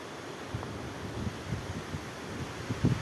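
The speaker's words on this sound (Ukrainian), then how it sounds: "Капець тут вітер, хана, хоч хоч їдь відсюди" Strong wind buffeting outdoors at a fishing spot, a steady low rushing roar with gusty thumps against the microphone, no voices.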